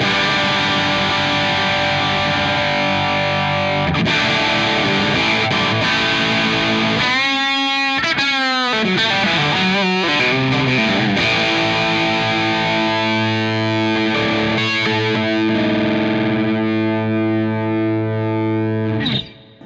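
A Sire Larry Carlton electric guitar with P90 pickups plays through heavy distortion, sustained chords and bending single-note lines ringing loud and close, with effects coloring the tone and no voices.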